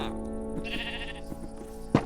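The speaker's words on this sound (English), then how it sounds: "I persuaded a few sheep to move in too" A few farm sheep bleat close by: a wavering, nasal cry that swells and fades in just a couple of seconds, then a brief sharp knock at the end.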